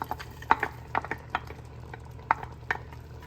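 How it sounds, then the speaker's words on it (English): Spoon stirring corn, peas and carrots into shepherd's pie filling in a pot, giving a series of soft, irregular scrapes and wet clicks close up over a low, steady background hum. "we're going to get that mixed up, combined well"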